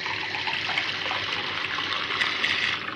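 Water is poured into a glass while mixing a lemon drink, a continuous close splashing trickle lasting about three seconds with no voices.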